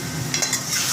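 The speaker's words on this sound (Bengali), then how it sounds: "শাকটা আমি একটু নাড়াচাড়া করে নিই" Taro greens sizzle in a hot pan while being stirred, a continuous close frying hiss broken by a few brief scraping strokes.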